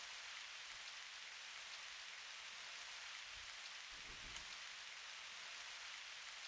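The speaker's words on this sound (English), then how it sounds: "And it has been raining this entire stream, which is kind of cool." Steady rain falls outdoors as a constant faint hiss, with a few low soft rumbles and no voices.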